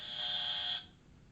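A French TV talent-show buzzer holds one steady electronic tone and then cuts off, leaving near silence.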